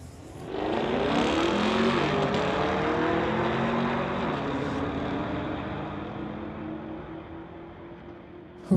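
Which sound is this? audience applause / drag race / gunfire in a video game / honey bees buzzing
drag race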